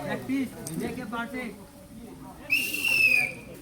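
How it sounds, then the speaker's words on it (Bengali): A referee's whistle blows once during a football tiebreaker penalty shootout, a short shrill tone rising out of live commentary, with someone talking excitedly before and around it. "ব্যাপারে কিন্তু হুইসেল দিয়ে দিয়েছে, দেখা যাক।"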